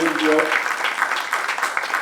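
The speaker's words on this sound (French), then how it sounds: "Je pense que ça peut s'applaudir, ça" Audience applause at an award presentation, a soft continuous wash of many hands clapping that keeps an even level, with a speaking voice briefly audible near the start.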